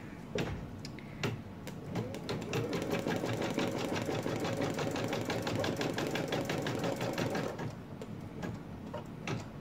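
A sewing machine stitches a tack-down placement stitch on a fabric ear, a steady fast mechanical whir with rhythmic needle ticking that holds for several seconds and slows to a few clicks at the end.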